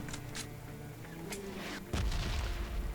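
PUBG Mobile red zone bombardment in a video game: repeated booming blasts and crackling impacts, with a heavy low rumbling explosion near the end that grows louder.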